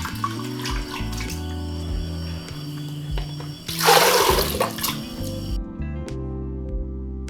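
Water pours into a thambum hodi mixture in a bowl, a loud, splashing gush lasting about two seconds, set against a bed of soft background music.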